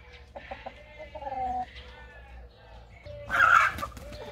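Several clucks from a rooster nearby, then a brief loud squawking burst, over quiet farmyard background.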